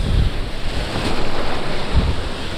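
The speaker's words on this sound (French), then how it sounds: "Pourtant regardez, il commence à y avoir des vagues sympathiques." Ocean surf breaks loudly and continuously on an onshore-wind kitesurfing beach, with a broad wash of surging water and heavy wind buffeting on the microphone.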